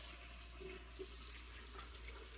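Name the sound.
water being added to shaving lather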